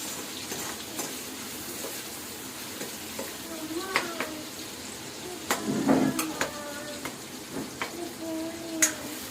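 Village-style egg curry frying in a pan just after tomatoes go in, a low steady sizzle with scattered clinks and scrapes of a spoon against the pan.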